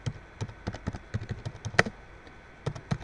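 Quick, irregular tapping on a computer keyboard, clear and close, a run of keystrokes with a short pause and one louder key press near the middle.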